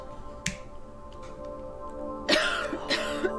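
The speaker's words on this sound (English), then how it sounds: "You'd better do something about that cough." A character in the Silent Hill 2 video game coughs a few times, sharp, short bursts spaced apart over a steady, droning game soundtrack.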